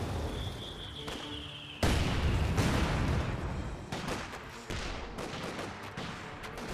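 Rapid gunfire and explosions from the real-time strategy game Company of Heroes 2, with grenadiers under fire: repeated overlapping bursts and sharp cracks at moderate loudness.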